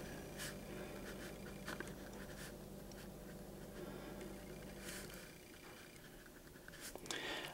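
Pen or marker scratching out a chemical synthesis on a page, a quiet run of short scritching strokes and taps in close succession, with a faint hum underneath and a brief pause before a final few strokes.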